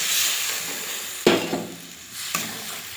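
Fish curry (mustard-oil style maach tel jhal) sizzles steadily in a pan, with a sharp splash and burst of hissing as a little water is poured in, then a second brief clatter of stirring near the end.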